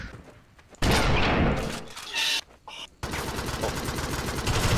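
Loud bursts of rapid gunfire from a chainsaw-themed shooter video game fill the clip, with sharp impacts and a brief lull before continuous shooting resumes.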